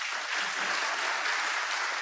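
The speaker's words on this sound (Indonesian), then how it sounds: "Yang sepakat tepuk tangan yang keras." Loud applause from a church congregation during an Indonesian Sunday sermon, dense steady clapping filling the whole stretch with no pauses.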